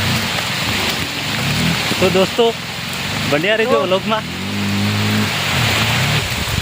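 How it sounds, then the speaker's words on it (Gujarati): Heavy rain pours down as a dense, continuous roar outdoors near a shop and road, with people talking and shouting over it throughout. "જબરજસ્ત વરસાદ ભયંકર વરસાદ પડવા માંડ્યો"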